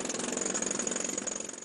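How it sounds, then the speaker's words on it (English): Laborers' power drills hammer into rock in an emerald mine in the Swat Valley, a steady, rapid mechanical pounding that carries on without pause at moderate loudness. "these laborers pound away with their power drills"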